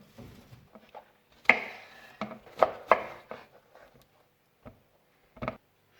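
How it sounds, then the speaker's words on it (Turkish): A knife chops through eggplant on a cutting board, a handful of separate thuds and cuts, close and fairly quiet with pauses between. "İlk olarak patlıcanlarımızı doğrayalım"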